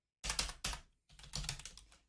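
Typing on a computer keyboard while coding a Python plot, two short bursts of rapid key clicks separated by a brief pause, close and fairly quiet, with no talk.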